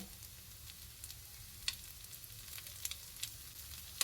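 Ghee sizzles around fasting appe cooking in an appe pan: a faint, steady hiss with scattered soft crackles and pops, heard alone.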